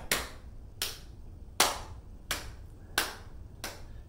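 Sharp single hand claps from a clapping game arrive in a steady, evenly spaced row of six, close and clear, with nothing else heard.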